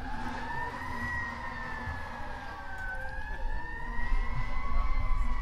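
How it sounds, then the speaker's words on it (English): A police car siren wails in slow rising and falling sweeps as it passes an outdoor Italian street festival. The siren is loud and continuous over a low traffic rumble, with no talk. "The police actually turn off their sirens when they go by"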